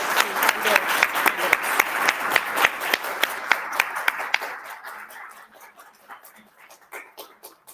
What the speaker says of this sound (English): let's give a round of applause to our best AFT candidates